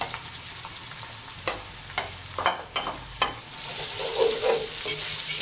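Onion stirred with a wooden spoon in a small pot for Uruguayan buseca, several distinct scraping knocks against the pot over a soft sizzle that swells into a louder, steady fry.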